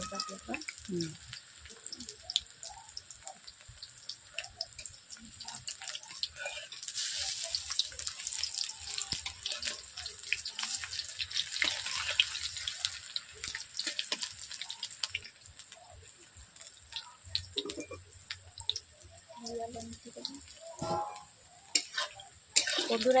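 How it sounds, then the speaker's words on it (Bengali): Leafy-greens fritters (pakoras) fry in oil in a wok, with a soft continuous sizzle and scattered crackles and pops throughout, fairly faint and uneven, with occasional kitchen knocks. "এইভাবে ঘুরিয়ে ফিরে আপনারা এই পকোড়াগুলো ভাজবেন আমি যেমনভাবে ভাজছি"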